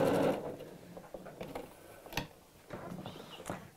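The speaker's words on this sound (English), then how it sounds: "we're going to machine stitch straight across where the hole was" A sewing machine stitches straight across the fabric lining of a heart-shaped bag in short, quiet bursts of mechanical whirring, with brief pauses between runs.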